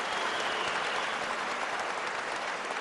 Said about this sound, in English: Let us all clap and give her a standing ovation for the honor she brought to our country